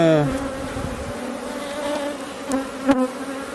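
Honey bees buzz close at an open hive while a beekeeper makes an artificial swarm. A continuous droning hum holds steady throughout, with a few sharper passing buzzes near the end.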